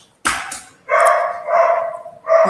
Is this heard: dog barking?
yes